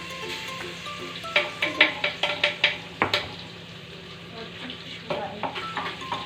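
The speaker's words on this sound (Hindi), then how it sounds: "तो यहाँ जो है मैंने लहसुन इसमें कूट के दे दिया है मुझे।" Crushed garlic sizzles in hot oil in a clay handi pot while a spoon stirs and scrapes it in quick repeated strokes, close and steady, one sharper knock partway through.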